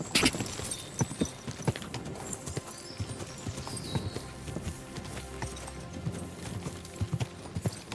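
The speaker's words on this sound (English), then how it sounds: "This horse." Horse hooves clip-clop at a steady walking pace on a hard surface, fairly close, with faint background noise and no talking, in the video game Kingdom Come: Deliverance II.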